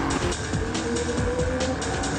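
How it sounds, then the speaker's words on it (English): Loud race car engine running on track, a continuous buzzing roar with rapid rhythmic rev changes, close and steady for a couple of seconds. "the race fades into the sound of my incredibly loud car"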